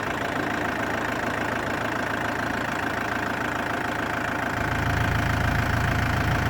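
Diesel engine of a 2005 Hyster H80XM 8,000-pound pneumatic-tire forklift running steadily at idle with a loud, continuous rumble, deepening slightly toward the end.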